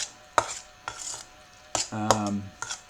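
A spoon stirs pasta with cream and sugar in a pot, giving a few sharp clinks and scrapes against metal, one longer rattling rub, close by and alone with no talking.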